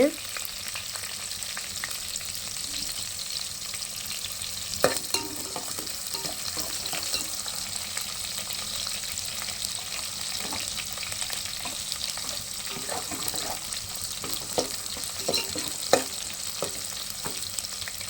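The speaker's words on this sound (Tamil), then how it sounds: "இப்போ வெங்காயம் வதங்கிட்டு இருக்கு இன்னும் கொஞ்சம் வதங்கட்டும்" Onions sautéing in a pan for a dried anchovy and cowpea curry, a continuous crackling sizzle with occasional stirring clicks and scrapes, steady and close over a long stretch without speech.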